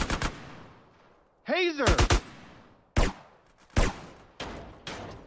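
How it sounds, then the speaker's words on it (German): Bursts of gunfire in the video game GTA San Andreas, loud sharp shots in clusters across several seconds, with a brief shout and a rising whistling effect among them. "Irgendjemand schießt da noch."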